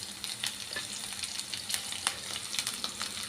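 Chicken masala with curry leaves and ginger garlic paste frying in a pan, giving a dense, continuous sizzle with frequent crackling pops and soft stirring, close and fairly quiet.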